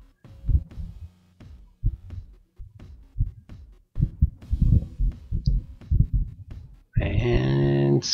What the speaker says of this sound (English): Hit the material with the hairdryer to soften.